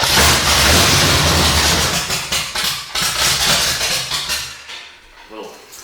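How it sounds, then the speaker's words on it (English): A 1969 Pontiac GTO's 455 V8 cranks on a newly rebuilt starter, a loud rhythmic churning that runs for several seconds and then cuts out, with faint talk near the end. "A little bit of fuel is added to the carb bowl just to see if the V8 will fire up when we energize the starter"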